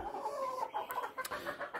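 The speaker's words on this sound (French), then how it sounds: "Ah, il y a une poule qui est croisée." A cross-bred hen clucks repeatedly at close range, short rhythmic calls in a steady series with no talking.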